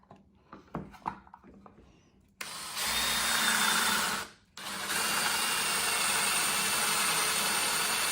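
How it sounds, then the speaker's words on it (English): A power drill bores a hole through a small part for an HO scale model railroad crossing gate. Soft handling clicks come first, then the motor whines up loud and steady, drops out briefly, and whirs on continuously. "let's see if I can get around to the other side of this and drill the hole through."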